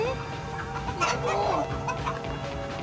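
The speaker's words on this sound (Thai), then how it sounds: "ไก่ซิลกี้น่ารักมาก" Silkie chickens at Camel Republic in Pattaya cluck and murmur close by in a busy outdoor setting, soft overlapping clucks throughout with a voice speaking over them.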